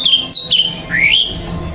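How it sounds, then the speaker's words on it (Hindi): A bird chirps as a sound effect, with several quick, high, sweeping squawks close up, loud and alone over a faint low background hum. "जैसे ये चिड़िया की आवाज।"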